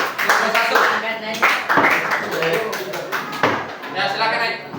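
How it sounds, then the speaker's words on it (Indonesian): Classroom applause for student group 3 after their presentation: a group claps by hand, close by, in short uneven bursts across the whole stretch, with voices talking over it. "berikan tepuk tangan kepada kelompok 3"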